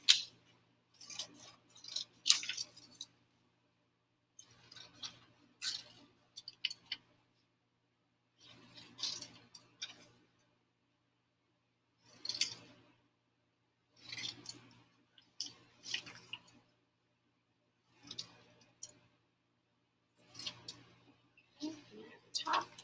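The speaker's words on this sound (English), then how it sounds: "I'm going to cut out each of these dotted line boxes separate from each other" Scissors snip paper for notebook foldables in short bursts of cutting separated by quiet pauses, with soft rustling of the sheets.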